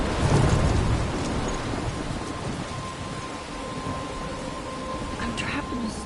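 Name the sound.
thunderstorm in Life Is Strange video game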